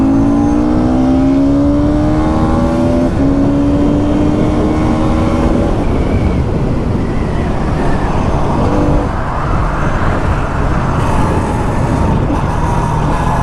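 A Yamaha R15 V4 and a Bajaj Pulsar NS200 race side by side in a drag and top-speed run, their engines revving loud and continuous with rising pitch through gear changes under heavy wind roar.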